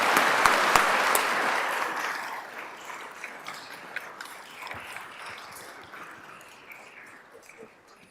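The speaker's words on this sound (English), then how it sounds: "If we can give our Southern cohorts a round of applause." Audience applause at a Certified Public Manager program graduation ceremony, a loud burst of many hands clapping that gradually thins and fades into scattered claps.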